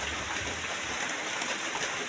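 Steady rain falls continuously over a rural area with ducks nearby after three days of heavy downpour, a dense even hiss with no pauses and no voices.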